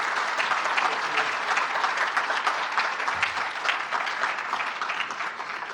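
An MIT audience gives sustained, dense applause to welcome a speaker back, many hands clapping evenly and close throughout.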